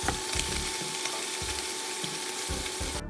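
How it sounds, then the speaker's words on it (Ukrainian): Meat with onion and sweet pepper sizzles steadily in a hot pan, with periodic scraping and stirring knocks roughly every half second. "Смажимо все протягом 5 хвилин."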